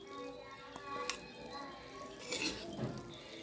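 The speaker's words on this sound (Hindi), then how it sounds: "मैं इसको डिश आउट कर रही हूँ।" Cauliflower potato curry ladled from a pot, a few soft metal clinks and scrapes of a spoon against cookware, faint and close, with someone talking softly over it.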